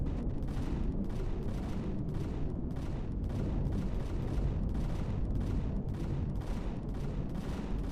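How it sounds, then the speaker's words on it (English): Ship guns in Empyrion Galactic Survival fire on enemy turrets in a rapid, regular volley of heavy booming shots, about two per second, loud and continuous over a low rumbling bed, with no voices. "what the guns should be doing is engaging the turrets"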